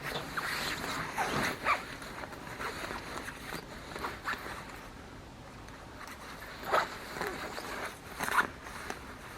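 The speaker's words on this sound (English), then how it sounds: "I'm gonna zip it back up and show you how I pack it." A heavy, long puffer coat is zipped back up, with scattered rustly zipper pulls and fabric swishes up close, while a voice talks intermittently.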